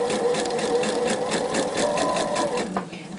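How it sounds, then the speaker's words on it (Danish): A sewing machine runs a straight stitch along the edge of elastic on a T-shirt, a steady close, loud mechanical whir with fast rhythmic needle pulses for about three seconds. "så kører vi altså vores lige ud søm lige her i kanten af elastikken"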